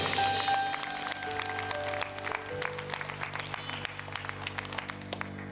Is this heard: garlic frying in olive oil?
no